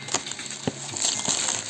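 Blade cutting through the cardboard and tape of a Makita DTS141 impact wrench box, a few short crunching and tearing scrapes up close, fairly quiet.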